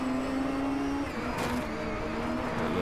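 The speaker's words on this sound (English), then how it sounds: "The motor just winding up the RPMs." Car engine revving in the Driveclub racing game, a low-slung car winding up the RPMs, with a steady drone holding pitch, a brief burst of noise partway through, then continuing alone.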